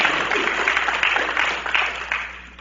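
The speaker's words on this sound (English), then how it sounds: "Can we give a round of applause for John real quick?" A room full of people applauds during a Sunday gathering, a dense patter of clapping that starts strong and gradually thins and fades toward the end.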